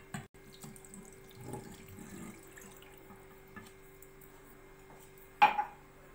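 A glass of milk is poured into chocolate cake batter in a home kitchen, a faint, soft liquid trickle over a quiet background, ending in a brief clink of glass or utensils near the end.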